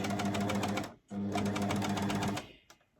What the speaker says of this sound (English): Place the presser foot down and then continue to stitch.